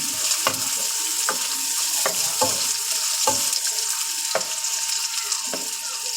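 Chopped onion and garlic sizzle steadily in hot oil in a pan, a dense frying hiss with sharp spatula scrapes and taps recurring about once a second, close and fairly loud, with no talk.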